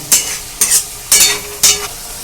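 A ginger, garlic and green chilli paste fries in hot oil for chana masala, with four distinct stirring strokes, each a close, loud burst of sizzling scraping, over a steady background hiss.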